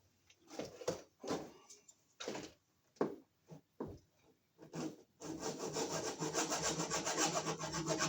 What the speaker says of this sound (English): I clip here, clamp here, and saw it about right here.